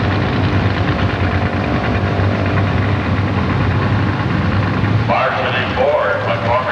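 Engine of a 1990 Ford Probe drag racing car at Milan Dragway, a loud steady rumbling drone throughout with a rising pitch sweep near the end, under announcer-style talk.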